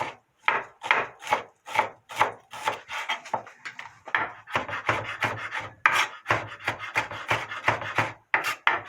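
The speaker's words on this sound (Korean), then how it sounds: "가늘게 썰어주는 게 좋아요. 가늘게. 막 다져주는 게 좋아요." Kitchen knife finely chopping and mincing ingredients for a seasoned green laver side dish on a wooden cutting board, a fast, steady run of close, crisp knocks with no talk.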